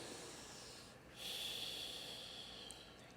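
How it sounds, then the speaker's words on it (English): Heavy breathing during a back bend exercise, a long hissing breath that swells in the middle and eases off, close and alone. "Big breaths, you gotta keep breathing while you do it"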